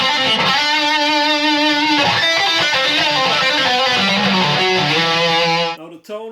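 An electric guitar plays through a Suhr Riot distortion pedal with the gain at maximum, thick sustained distorted chords ringing loud and close before cutting off sharply at the end.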